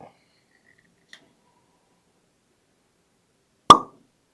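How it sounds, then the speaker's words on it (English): A cork pops sharply from a Shortbarrel Bees Knees whiskey bottle, 107.2 proof from Georgia: one single, clear, close pop with a quick decay after near silence and a faint tick. "Good cork pop."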